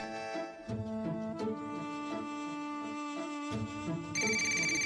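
A phone ringtone plays a repeating melodic chime pattern, fairly clear and steady, with a brighter tone kicking in near the end.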